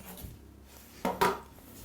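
A knife trims the far end of a pastry-wrapped sausage roll, giving two quick, close cutting knocks against the board, with a quiet kitchen around them and no talk.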